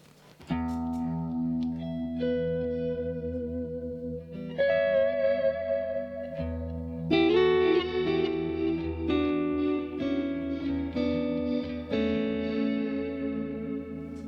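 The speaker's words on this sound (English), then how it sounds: "So if you have maybe a longer delay, it might sound really beautiful actually." Electric guitar notes and chords ring out through a Boss DD-200 digital delay pedal with modulation, each phrase trailing soft repeating echoes with a wavering, chorus-like shimmer.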